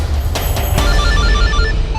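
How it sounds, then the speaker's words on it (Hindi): A phone rings loudly and close, with a few quick bell-like tones at the start followed by a steady electronic ringtone pattern over a low background hum. "शिवम का फोन।"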